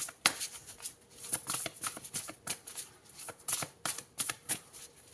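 Tarot cards being shuffled during a reading, giving a quick series of crisp riffling and slapping bursts, close and moderately loud, with no talking over them.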